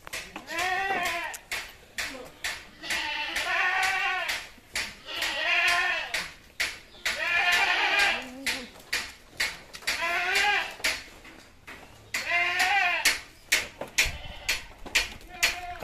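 Qurban goats for sale bleat repeatedly, a run of loud, close, wavering cries coming one after another across the whole stretch with short gaps and some shuffling between calls.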